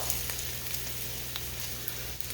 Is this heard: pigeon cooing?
no